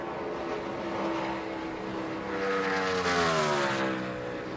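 NASCAR Sprint Cup race cars roar at over 200 mph during qualifying at Michigan's 2015 Quicken Loans 400, a distant engine drone rising in pitch as a car sweeps past, with no talk.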